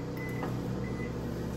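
A microwave oven runs inside an off-grid tiny house, giving a steady, loud, unbroken hum and drone with no talk over it.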